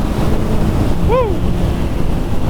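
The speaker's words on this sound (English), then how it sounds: "just gonna get out of the wind here" Steady, loud wind rush buffets the microphone throughout a motorcycle ride, a constant low roar with a brief high rising whistle midway.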